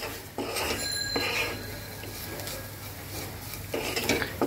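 Metal spoon scraping and clinking against a pan while fish masala for bele fish do-piyaza is stirred and sautéed, a steady rattle with soft sizzle underneath and a low hum.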